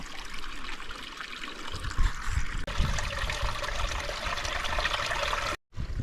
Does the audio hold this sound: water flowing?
yes